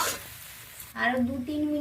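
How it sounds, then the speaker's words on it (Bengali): Drumstick leaves and red amaranth greens fry in a pan with a brief hissing sizzle at first, after which someone speaks over the quieter cooking. "তো হালকা আমি একটা ঢাকনা চাপিয়ে চাপিয়ে ভাজাটা করে নেব।"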